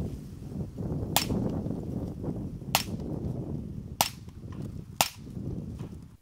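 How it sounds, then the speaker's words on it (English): Suppressed rifle shots from a BCM build fitted with a Dead Air Nomad suppressor come as four sharp cracks spaced about a second apart, standing out over a low, rumbling background. "get a Dead Air Nomad, which is one of my favorite cans, half a pound lighter, and it sounds amazing."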